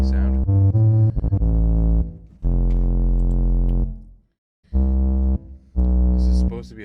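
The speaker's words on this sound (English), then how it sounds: "This is supposed to be a bass sound, just an analog bass sound." Analog-style synthesizer bass with tube distortion plays loud, sustained gritty notes in several separate phrases with short gaps between them, with no voices.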